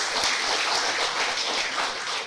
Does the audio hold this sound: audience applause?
yes